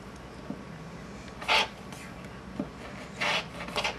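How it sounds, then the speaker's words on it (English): Cutting along a straight line against a ruler: two short rasping strokes, close and fairly crisp, separated by quiet pauses. "So let me go ahead and cut that."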